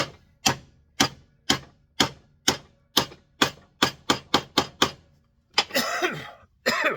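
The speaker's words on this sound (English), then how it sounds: "And then we'll seat it in with the steel hammer in our block." A steel hammer taps a bearing into place in a block on a 1962 Sprunger Brothers wood lathe, about a dozen sharp metallic knocks at a steady pace that quickens toward the end, followed by a cough.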